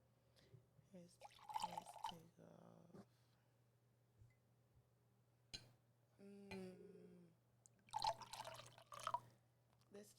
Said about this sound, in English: I'll pour into her cup and she pour into my cup.